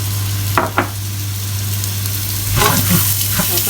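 Bun filling frying in hot vegetable oil while being stirred, a steady loud sizzle with a few sharp scraping clatters of the utensil early on and a busier stirring burst near the end, no talking.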